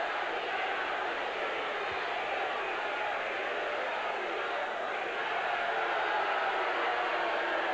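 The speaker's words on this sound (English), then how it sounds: "Listen to this capacity crowd." A capacity crowd at a 1982 WWF Championship Wrestling arena: a steady, dense roar of cheering and shouting fills the whole stretch without letup.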